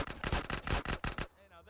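Fast automatic gunfire in Grand Theft Auto: San Andreas on PS2, about seven loud evenly spaced shots in a quick burst, then a brief ringing tail.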